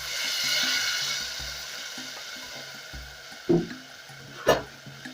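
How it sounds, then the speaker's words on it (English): Water pours steadily into a pot of coconut bean stew, with a few soft clinks and knocks of cookware near the end. "I'll go in with some water."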